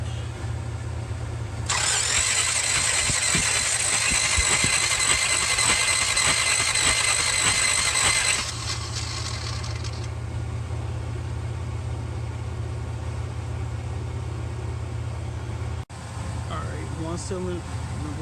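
A 1966 Buick Riviera GS, cranking but not starting, is turned over by its starter for a compression test: a loud, steady churning crank of several seconds, then a low hum and a brief clunk, heard close up.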